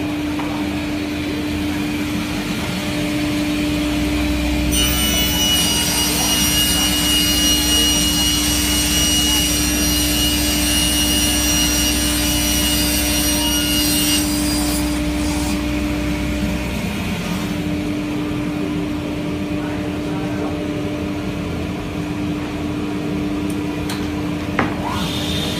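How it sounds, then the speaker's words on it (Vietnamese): A sliding table saw cuts MDF board during edge trimming, giving a steady close machine drone with a loud, bright cutting whine for roughly ten seconds in the middle before it settles back to the running hum. "Máy cưa bàn trượt dùng trong công đoạn gong cạnh."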